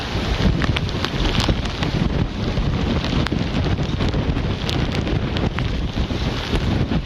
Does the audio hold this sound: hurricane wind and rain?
yes